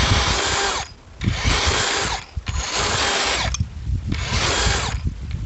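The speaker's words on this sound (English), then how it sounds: "So that's initiating a torque response, and there's electronics in here that will sense it locked up." A big DeWalt drill whirs in four loud, close bursts of roughly a second each. Short pauses separate them as the tool locks up and its electronics cut the torque.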